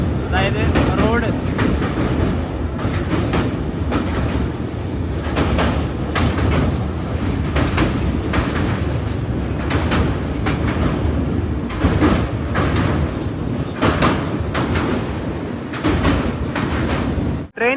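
A Humsafar Express from Agartala to Bengaluru runs into Cuttack railway station, giving a loud, continuous rumble of wheels and carriages with rattling and clatter throughout.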